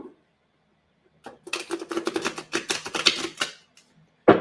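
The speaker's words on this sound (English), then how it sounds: "Shuffle the cards real good." Someone shuffling a deck of playing cards nearby, a rapid riffling patter of snapping cards lasting a couple of seconds, followed by a sharp tap.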